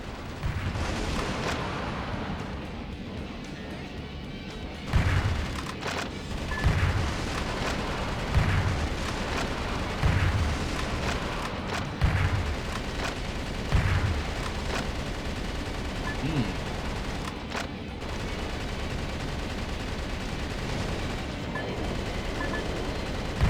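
Artillery fire from a ship's gun battery in the video game Metal Wolf Chaos XD: a series of heavy booms at roughly regular intervals over a constant rumbling battle din.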